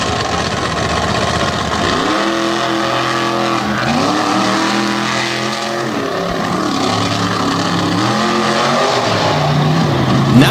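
Brutus, a Racehorse chassis pulling vehicle out of Columbus, Michigan, roars through its run at a Thunder in the Valley pull, the loud engine note rising and falling in long surges with no talk over it.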